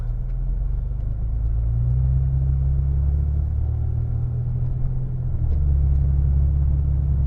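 Steady low rumble of a 2011 Saab 9-5 Aero 2.8 turbo V6 with 21-inch wheels and low-profile tires rolling along a road from inside the cabin, smooth engine drone with no talking.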